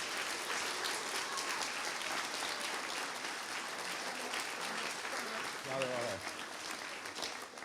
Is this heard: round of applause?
yes